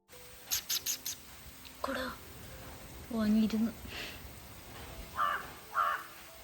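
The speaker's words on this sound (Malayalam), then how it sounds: "ഇന്ന് അവനെ അലട്ടുന്നത് മൊത്തം ആ മുകളിലിരിക്കുന്ന കാക്കയാണ്" Crow cawing from a rooftop, several harsh calls in separate bursts with pauses between, fairly close, over a quiet domestic background with faint talk.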